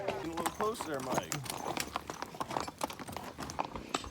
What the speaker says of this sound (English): these horses, they go on these galloping spurts and then they slow down again